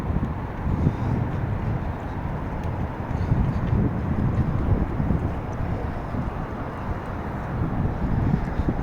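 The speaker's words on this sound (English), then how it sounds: "It's getting slightly windy." Steady, blustery wind off the sea in Belfast roars continuously across the microphone, a dense low rumble with no pauses.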